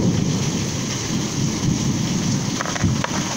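A loud thunderstorm outside gives a steady, dense roar of heavy rain with a low rumbling underneath. It fills the whole stretch evenly and there is no talking.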